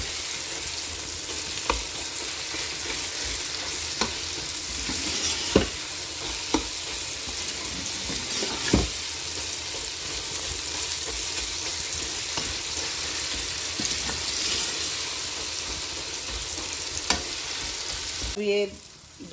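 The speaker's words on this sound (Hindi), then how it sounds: "अदरक लहसुन के पेस्ट को 2-3 मिनट पकाएंगे ताकि इसकी स्मेल ख़त्म हो जाए।" Ginger garlic paste frying in a pan for chicken korma, a continuous soft sizzle with occasional scraping stirs and clicks of a spoon, steady at moderate level until it cuts off near the end.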